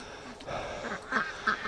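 Free-range ducks quack at breakfast time, a few short, faint calls in quick succession.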